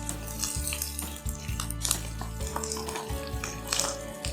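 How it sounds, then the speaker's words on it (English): Chopped onions sizzling in a pan with curry leaves, a steady frying hiss under repeated scraping and clinks of a utensil against the pan. "Handful of curry leaves. Now I add the chopped onions."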